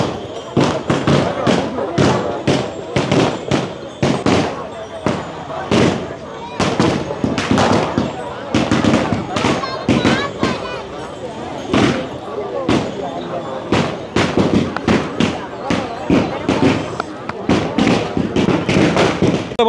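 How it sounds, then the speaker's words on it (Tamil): Firecrackers go off at the Passaiyoor St. Anthony church festival in Jaffna: a long string of loud, sharp bangs in irregular rapid bursts with echoing thuds, and voices can be heard among the blasts. "சும்மா பட்டாசு கொளுத்துறாங்க"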